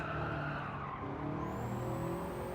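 A race car in Gran Turismo 7 snaps loose and skids, its tires squealing in sustained, wavering tones over the engine drone, with a rising pitch near the end.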